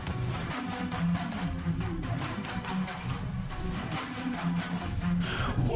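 AI-generated cyberpunk acid jazz song with soft electric drums: a steady groove of dense, muffled instrumentation and rhythmic drum hits continues at moderate volume throughout, with no gaps.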